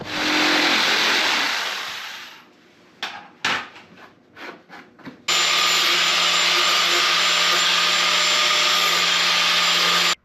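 Power tool cutting into a plastic fender on a Polaris RZR Pro XP UTV in a shop, a loud steady cutting whine in two long bursts with a stretch of short irregular clatter between, no talk.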